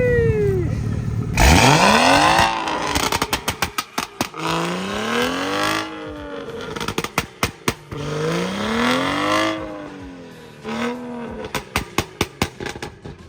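A Nissan GT-R drives by loudly, its engine revving and climbing in repeated surges with sharp crackling pops between shifts, close and dominant throughout.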